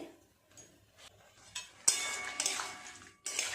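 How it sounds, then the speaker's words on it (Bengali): A spoon works tomatoes around a pan while a chutney cooks, giving quiet scraping and clinking. The contact is faint and irregular, with a louder, busier stretch of scraping near the middle and end. "এইভাবে নেড়ে চেড়ে টমেটোর কাঁচা গন্ধটা কাটিয়ে নিতে হবে"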